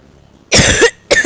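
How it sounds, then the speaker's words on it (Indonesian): Two harsh coughs from a person, one long and one shorter, close and loud with nothing else heard. "maaf guys, masih lagi batuk"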